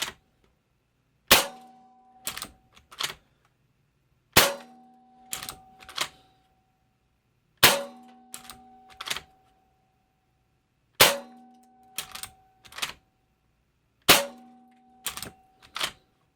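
A Hatsan Vectis lever-action PCP air rifle fires five sharp, evenly spaced shots, each followed by quick metallic clicks and clacks of the lever cycling, close up in otherwise quiet surroundings.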